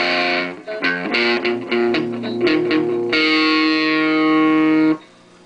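A distorted electric guitar plays a few choppy chords and notes, then rings out on a sustained, saturated chord before cutting off.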